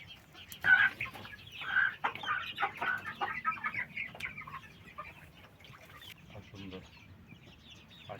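Chickens cluck in a farmyard coop, with short bursts of clucking and calling close by, rising and fading over several seconds against a low background hum.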